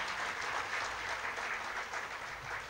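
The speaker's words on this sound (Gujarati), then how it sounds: "હંસાબેન માટે જોરદાર તાળી આપણે પાડવી છે" A room full of people claps steadily for a woman named Hansaben at a live Thursday morning gathering, a soft, even wash of applause at a distance, with almost no voices.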